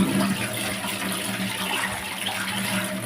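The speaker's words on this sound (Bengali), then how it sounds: "আগে কলটা বন্ধ করি" Kitchen tap water running steadily while taro roots are washed, a continuous close gushing hiss with faint splashing, no talking.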